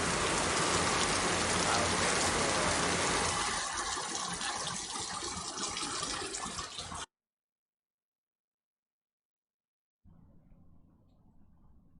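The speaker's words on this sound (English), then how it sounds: "here's rain and thunder." Heavy rain hisses steadily, then thins to a lighter patter before cutting to silence; after a few quiet seconds, softer rain noise returns.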